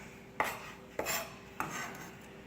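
A knife chops West Indian thyme on a cutting board with three sharp, evenly spaced strokes, fairly quiet and close, with no talk.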